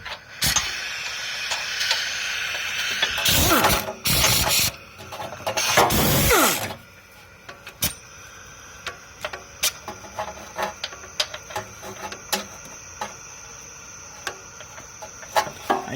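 A spanner works gearbox screws loose on a Honda Jazz, with rapid metallic ratchet clicks, a few louder grinding bursts early on, and then sparse, irregular ticks and taps, all close by and with no talking.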